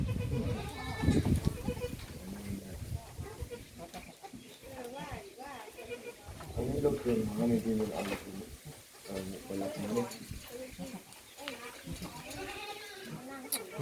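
Meat goats on a farm bleat repeatedly, several wavering calls from near and farther animals overlapping, while someone talks over them much of the time.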